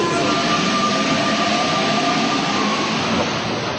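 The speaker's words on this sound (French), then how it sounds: "c'est tout simplement en métro que Sabrina se rend, comme elle dit, à son travail" A Paris metro train runs underground with a steady, loud rumbling roar and faint high whine throughout, no voices heard.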